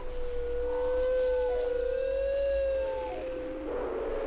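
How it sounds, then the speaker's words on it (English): Noises synth plugin voice with its filter resonance automated, a sustained siren-like whistling tone that slowly rises and falls in pitch, with faint wavering overtones and a hiss swelling near the end, loud and alone. "let's send the resonance of the filter on a little self-automated trip by moving this little knob"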